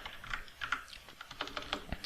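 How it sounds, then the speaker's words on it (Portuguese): Quick, light keystrokes on a computer keyboard as the word localhost is entered into a browser address bar, a short run of soft irregular clicks heard close and alone. "vou digitar aqui localhost"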